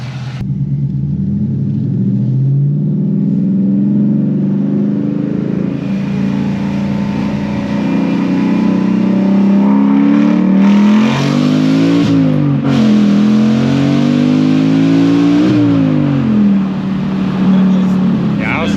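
A 2019 Ford Mustang GT V8 engine rumbles loudly throughout, rising and falling in pitch as it accelerates and revs, with the sweeping engine tones climbing sharply in the middle section.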